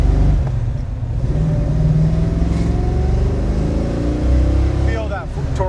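The 454 V8 engine of a 1968 Chevrolet El Camino SS roars and pulls hard under acceleration, its deep rumble climbing steadily in pitch, close and loud inside the car.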